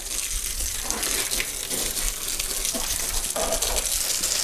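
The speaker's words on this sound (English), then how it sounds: "So again, we're just pre-wetting the wood real good." Hose spray wetting down weathered, lichen-covered exterior wood before restoration, a steady close hiss of water with fluctuating splashes, continuous and fairly loud with no talk.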